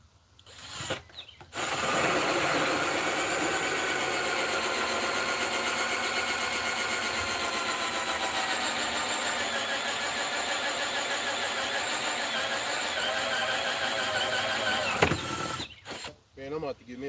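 A cheap Hyper Tough power drill bores into wood, a loud, steady whine and grinding rasp that runs continuously for about thirteen seconds with brief pauses at the start and end; speech is faint around it.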